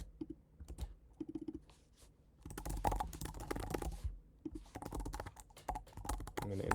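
Someone types an email address on a computer keyboard during an app sign-up, a close run of quick key clicks in bursts with brief pauses and no speech.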